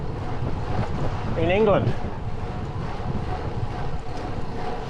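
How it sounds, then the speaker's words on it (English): Steady wind roars against the microphone while cycling up a long climb in England, a constant buffeting rush with someone speaking briefly over it. "With a headwind, of course."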